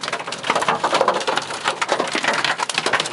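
Hail and rain pelt a car during a thunderstorm, a dense, loud clatter of hard hits drumming steadily on the body without pause.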